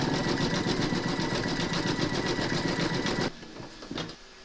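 An embroidery machine sews a satin stitch edge on an in-the-hoop appliqué scarecrow, its rapid needle hammering steady and near for about three seconds before stopping abruptly, leaving faint clicks and room quiet.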